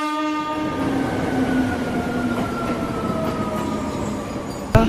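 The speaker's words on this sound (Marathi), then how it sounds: "So है इधर का लोकल ट्रेन." A local passenger train rumbles past close by with a sustained horn blast over the rolling wheel noise, then a sharp clack near the end; no talk.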